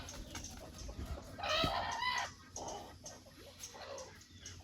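Native country chickens cluck and squawk nearby in short, uneven bursts, with one louder call in the middle against a quiet background.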